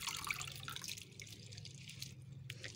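Water runs steadily from a tap while spinach is washed, a soft continuous splashing trickle with faint drips, close by and without talk.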